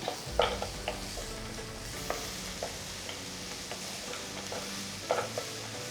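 Chopped onions sautéing in oil with whole spices in a kadai, a soft continuous sizzle broken by repeated scraping and clinking of a stirring spoon.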